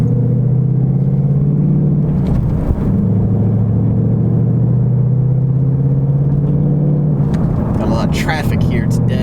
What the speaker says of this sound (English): I have proof that people love V8 noises